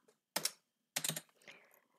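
Two short bursts of rapid typing on a computer keyboard, close and quiet, separated by a pause, with a softer trailing flurry of keystrokes.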